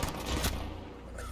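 Shot from a video game firefight, a sharp burst near the start followed by a second heavier blast, set against continuous background game noise.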